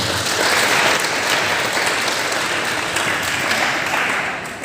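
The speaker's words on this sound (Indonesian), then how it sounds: "Tepuk tangan untuk kita semua." An audience at a santri digital broadcasting camp claps steadily for several seconds, a dense wash of applause that fades slightly at the end.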